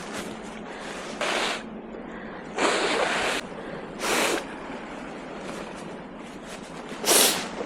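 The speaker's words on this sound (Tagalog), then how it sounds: "Number one, suminga." Several short, breathy bursts of nose blowing, spaced a few seconds apart, against a steady outdoor wind rumble on a cold winter day in Korea.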